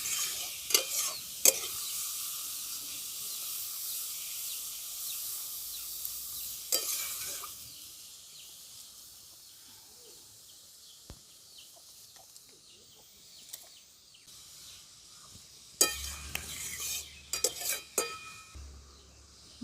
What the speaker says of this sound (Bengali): পেঁপেটা দিয়ে আমি একটু নাড়াচাড়া করে নেবো।